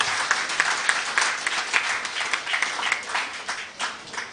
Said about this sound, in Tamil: 4 பேருக்கு ஒரு கைதட்டு நல்லா கொடுத்துருங்க